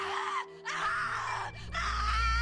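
A man groans and screams in the video game The Cat Lady, two strained, drawn-out vocal cries broken by a short pause, close and fairly loud over a low droning background.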